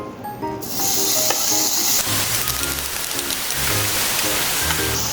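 Milk chhana curd cooking in a pan gives a loud, continuous sizzle and frying hiss once it hits the hot surface, steady over several seconds with no one speaking.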